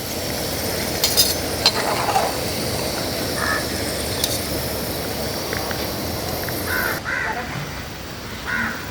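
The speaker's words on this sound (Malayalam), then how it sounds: "ഇനി കോരി കോരിയെടുക്കണം" Fried chicken snack being scooped out of sizzling oil, a steady crackling fry throughout with a few light metal clinks and crow caws in the background, no talking.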